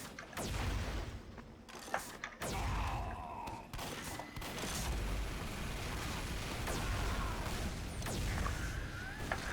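A pump-action weapon firing in the shooter Team Fortress 2, sharp blasts and mechanical clacks repeating over a dense, noisy game soundscape.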